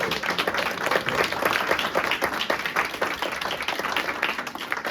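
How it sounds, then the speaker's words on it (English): Audience applause after a talk at a kite festival event: many hands clapping at a moderate level, continuous and fairly even for several seconds. "I think we all give a big applause to DB Opera."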